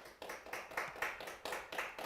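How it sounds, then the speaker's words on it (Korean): An audience applauds after a musical performance with a steady run of distinct claps, moderately quiet and fairly regular in rhythm, with no talking. "뜨거운 박수 부탁드립니다"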